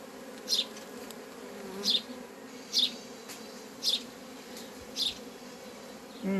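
Honey bees hum steadily after being shaken from the frames of a hive, a low droning buzz with five short, sharp ticks spaced about a second apart.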